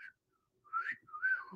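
A person imitates a catcall wolf whistle: a brief chirp, a pause, then a rising tone and a longer sliding note, fairly quiet and heard alone.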